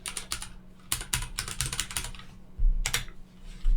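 A script name typed on a computer keyboard while setting up a Unity 2D quiz game: bursts of quick key clicks with short pauses between them and a heavier thump near the end, close and clear with no talking.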